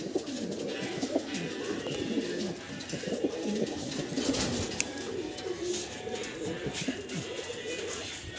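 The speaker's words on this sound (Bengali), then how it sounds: "এখানে ফ্যান্টেল কবুতর, ব্ল্যাক কালারের ভিতরে।" A pair of black fantail pigeons cooing on a pigeon farm, producing steady, soft, throaty rolling coos close by with light background noise and no talking.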